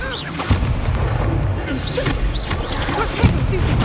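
Incendio fire spell blasts in the Hogwarts Legacy video game: booming, crackling bursts amid busy combat effects, with a voice and chirpy magical tones layered over the loud mix.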